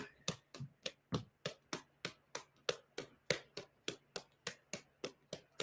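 One person claps steadily and evenly, about three sharp, close handclaps per second, in a quiet room with no talking.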